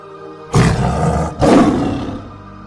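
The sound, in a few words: tiger roaring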